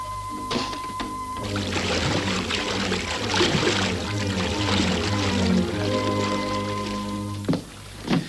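Wine pours steadily into a glass for several seconds, a close gurgling splash with a rising tone, bracketed by soft clinks of glassware.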